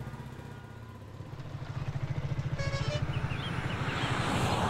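A motor vehicle engine grows louder with a pulsing, throbbing rhythm as it pulls up close, rumbling steadily toward a stop, with a brief whistle-like tone partway through.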